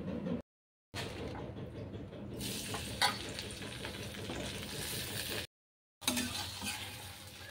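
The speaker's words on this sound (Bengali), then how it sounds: "তো চলো আমি ভাজাটা বসিয়ে দিই।" Food frying in a pan on a home kitchen stove, a steady close sizzle with a few stirring scrapes. It breaks off in two short gaps of silence.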